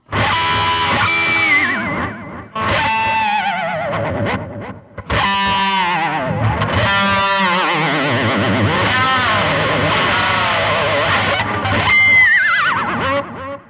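Distorted electric guitar with effects mimicking a horse's whinny, several loud wavering squealing phrases separated by short pauses, played alone without talk.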